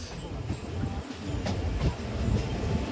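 Aboard the Venkatadri Express at Shadnagar station, a low steady rumble and clatter of the train fills the carriage, with faint background voices.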